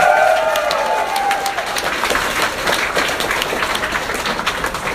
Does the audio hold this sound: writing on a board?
no